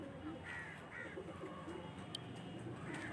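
Pigeons kept by a fancier coo and call faintly in the background, with soft rolling coos scattered across a quiet, noisy backdrop.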